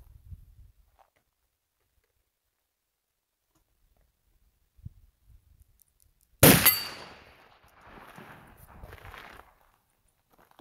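A .45 caliber muzzleloader pistol fires once, a loud sharp blast with a brief ringing tail, preceded by faint handling noises and followed by low rustling and movement.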